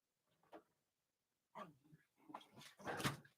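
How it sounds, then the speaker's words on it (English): Two dogs, Scruff and Lunar, playing indoors, giving a few short barks and yips, quiet at first and then louder in quick bursts. "You hear them barking."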